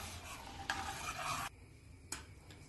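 Hot milk with saffron and sugar is stirred in a pot, giving a faint scraping swirl that stops abruptly partway, followed by a soft knock, with no voices.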